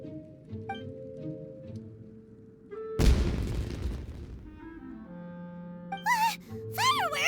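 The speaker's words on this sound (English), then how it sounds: "Was that an explosion? It sounded like fireworks." A firework burst in the video game The Land of Eternity: one sudden loud blast breaks over the game music and fades into a long crackling rumble, with sharp whistling streaks rising near the end.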